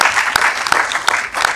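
Loud, dense clapping from a live theatre audience at a Punjabi comedy stage drama, continuous for a short burst with sharp individual claps standing out.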